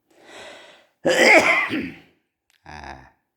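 A person coughs several times in short harsh bursts, one loud rough cough between softer ones, close and with no talking.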